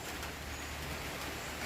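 Heavy rain pours in a dense, steady hiss with no breaks, moderately loud and without voices.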